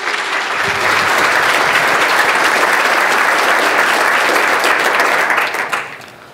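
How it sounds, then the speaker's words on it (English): An audience at a programming conference applauds a speaker being introduced, a full, even wash of clapping from many hands that holds steadily for about five seconds before fading quickly. "Please give a warm applause for Łukasz Langa."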